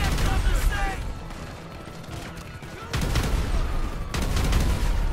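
Police gunfire in GTA 5 with exploding bullets: dense bursts of rapid shots and booms keep coming throughout, surging louder near the end, with a voice mixed in under the barrage.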